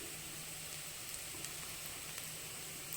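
Onions sauté in a pan for egg kothu idli, making a faint, steady, even sizzle with a few tiny crackles, heard alone.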